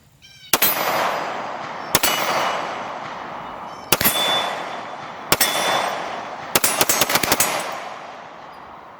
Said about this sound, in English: Anytime I get my hands on a good pistol, I can shoot the shit out of it.